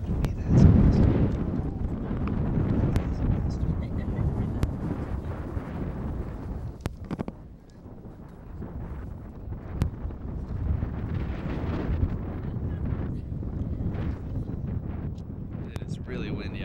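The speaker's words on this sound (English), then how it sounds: "It is really windy out here" Gusty wind blows outdoors at a high school varsity baseball game and rumbles against the microphone in uneven surges, with people talking over it.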